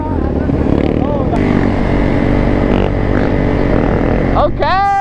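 A dirt bike engine revs at a busy riding lot, its motor droning steadily throughout and climbing in pitch in rising revs near the end, with people talking over it.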